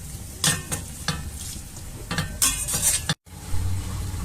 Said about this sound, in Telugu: ఇవన్నీ పన్నీర్ ముక్కలు ఇవన్నీ ఆయిల్లో వేసేసి ఒక 5 minutes అట్లా